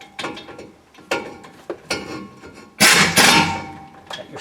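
A ratchet clicks in short bursts while snugging up the u-joint bolts on a 1999 GMC Sierra, close by, with a louder metallic clatter partway through.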